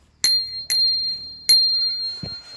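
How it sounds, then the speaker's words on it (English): A bicycle bell on an old grandma's bike rings three times close up, each bright ding sustaining a long metallic tone, followed by a soft thump. "This is my grandma's bike. So, yeah, has a bell."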